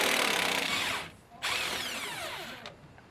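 An impact gun hammers at a damper bolt on a Nissan 350Z during a suspension job, two loud close bursts of rattling power-tool whir split by a short pause, with nobody talking.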